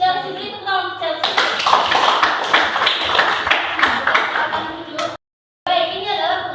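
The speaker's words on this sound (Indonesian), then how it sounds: "Beri tepuk tangan untuk Chelsea" Applause for a student named Chelsea during a classroom talk on the ethics and risks of artificial intelligence: a steady, fairly close burst of hand clapping lasting about four seconds, with speech around it before and after.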